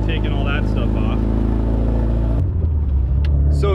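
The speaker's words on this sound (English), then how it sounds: "Everybody loves that cold start." A Subaru STI with a Cobb exhaust, turbo swap and external wastegate cold-starts with a loud, deep, throbbing idle rumble that shifts abruptly partway through. It is close and continuous, with someone talking over it.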